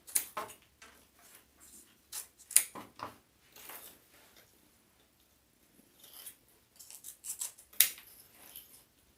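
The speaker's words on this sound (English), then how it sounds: "Let's cut our tails. So I'm just going to dovetail these." Scissors snip tails into decorative ribbon ends for a red, white and blue front-door swag, with a string of short, close crisp cuts in irregular bursts and quiet pauses between them.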